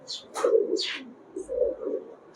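Soft coos and a few short chirps from a hand-held Pakistani Highflyer pigeon, close by, over a low rustling background with brief quieter gaps.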